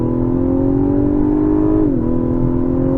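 A 2023 Lexus LS 500 launches hard with traction control off and torque-braked, its engine pulling a steady loud drone that rises in pitch, dips briefly at a gear change, then climbs again.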